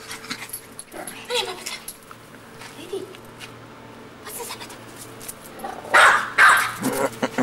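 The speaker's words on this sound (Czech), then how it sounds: "Hele, pejsek už jde." A dog barks and wheezes in short bursts, some quiet and others louder and closer, with a faint hum and a few voices around it.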